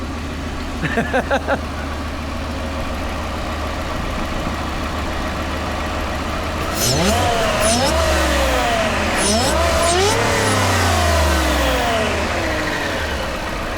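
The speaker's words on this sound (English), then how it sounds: "Let the owner rev it, man. Owner wants to hear it." A 2026 Ford F-150 XLT V8 pickup engine with a Whipple supercharger idles with a deep rumble, then revs hard several times in loud surging bursts, close by, with no talking over it.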